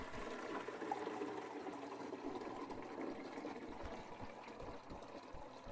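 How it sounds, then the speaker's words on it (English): Water poured into the reservoir of a Gaggia Classic espresso machine, a steady, soft splashing trickle lasting several seconds with no talk. "you'll want to put water in the reservoir."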